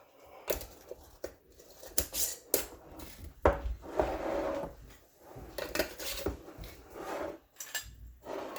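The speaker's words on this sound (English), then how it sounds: "now we're just going to add our rings, and you just want to do these finger tight" Metal rings being screwed finger tight onto glass canning jars of pork roast, giving a series of close clinks, scrapes and rubbing twists in uneven bursts, with no talking.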